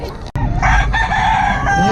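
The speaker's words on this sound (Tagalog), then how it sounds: "Ang daming mga manok dito ngayon." Many chickens crow and cluck loudly and close by in a crowded spot, the calls overlapping continuously after a sharp knock at the start.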